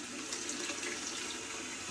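Water runs steadily from a tap while rice is rinsed in a sink, a continuous close hiss and splash with no pauses and no talking.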